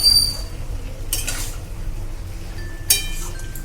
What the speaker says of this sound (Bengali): কাঁচা লঙ্কা আর টমেটো কুচি। দিয়ে এটাকে আমি ভালো করে মিশিয়ে নেব।